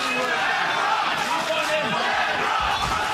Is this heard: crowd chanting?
yes